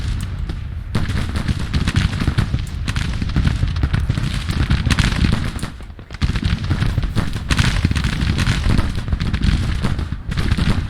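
Sharps rifles fire in Grand Tactician Civil War as a dense, continuous crackle of overlapping musketry shots, loud and rolling with a brief lull midway.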